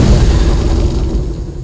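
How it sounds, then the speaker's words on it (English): Grenade blasts in the game Interactive Buddy, a loud close boom with a crackling burst that rolls off and fades over under two seconds. "Throw you some grenades!"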